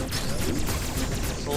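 Rapid weapon fire in Metroid Dread, a dense run of quick shots layered over game music and effects. The burst is loud and continuous across the short stretch.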